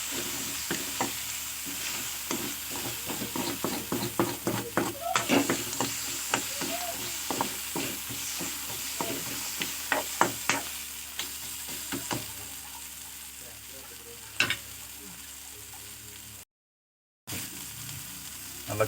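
Crab and coriander leaves sizzle steadily in a pan while a utensil scrapes and clacks in quick, uneven strokes, the stirring easing off toward the end.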